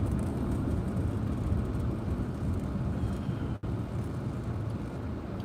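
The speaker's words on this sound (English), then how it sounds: "slow traffic" Slow road traffic passes in a low, continuous rumble of engines and tires. It stays fairly steady, with only a brief dip partway through.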